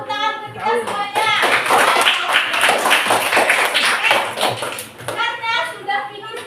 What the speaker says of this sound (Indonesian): Yuk, tepuk tangan untuk kita semuanya.